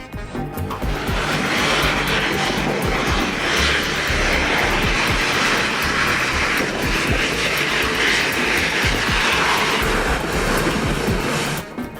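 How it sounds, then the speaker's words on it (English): A continuous, loud military jet engine roar during training at Naval Air Facility El Centro, swelling slightly and holding steady for several seconds before cutting off abruptly, with no voices. "The roar of jet engines during training at Naval Air Facility El Centro shook the ground"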